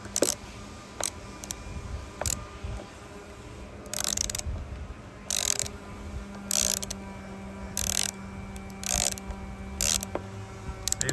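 A screw being driven into a window frame, likely with a power driver, giving several short whirring bursts separated by pauses over a low steady background hum, with no talking.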